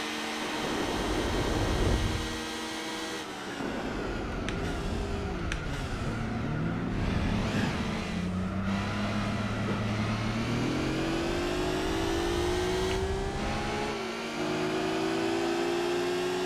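Race cars accelerating hard in Gran Turismo 4, engine notes rising and falling through gear changes with steady loud revving that climbs in pitch, several cars close together on a track straight.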